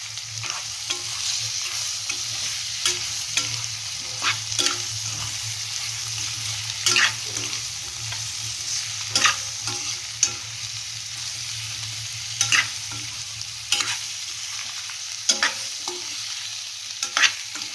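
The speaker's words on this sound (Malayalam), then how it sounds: "ഇനി നമുക്കിതിലേക്ക് അരിഞ്ഞു വെച്ച നാരങ്ങ ഇട്ട് കൊടുക്കാം." Chopped lemon stirred into hot sesame oil for a traditional lemon pickle, with a steady sizzle and regular scraping clicks of the spoon against the pan, close and continuous, no talking.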